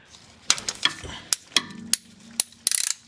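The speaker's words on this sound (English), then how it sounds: "I happen to have a 17 millimeter on a long extension with my long handle ratchet to give myself a little more leverage" A long-handle ratchet with a 17 mm socket on a long extension loosens the differential fill bolt on a 1999 Acura RL, giving close, sharp metallic clicks in irregular bursts, with a brief hum midway and a rapid clicking run at the end.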